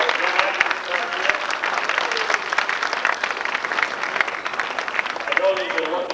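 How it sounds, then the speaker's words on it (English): An audience at an Army Navy Academy evening play gives the young actors a round of applause, a dense, continuous wash of many hands clapping at close to moderate distance throughout. "So I'd like to have another applause for our young actors here."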